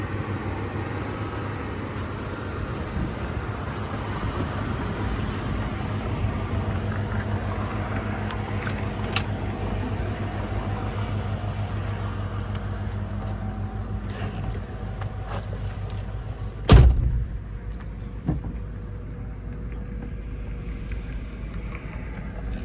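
A 1996 Ford Bronco Eddie Bauer 4x4 drives along as a steady low engine drone mixed with road and wind noise from inside the cab, with a single sharp knock partway through.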